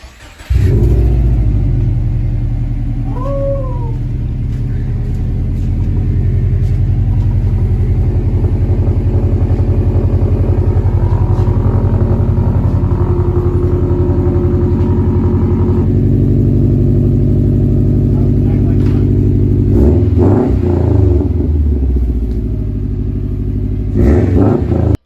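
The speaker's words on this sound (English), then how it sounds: "we spent all night getting the new exhaust onto the car. It sounds so nice now." A Subaru engine fitted with a newly installed exhaust revs loudly and steadily for about twenty-five seconds, holding a deep rumbling drone that swells through several throttle blips near the end, with no talking over it.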